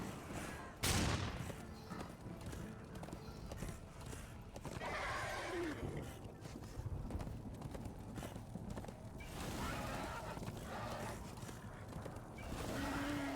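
A horse in the video game Darksiders 2 gives loud neighs and whinnies among clopping hooves, with a sharp burst and busy game action throughout.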